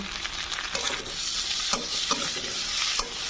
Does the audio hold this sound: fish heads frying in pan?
yes